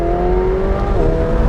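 A McLaren 720S supercar accelerates hard on a national speed limit road, its engine a loud, close, rising drone with a brief change in pitch partway through, like a gear shift.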